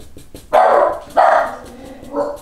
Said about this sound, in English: that's just the dog barking at the postman.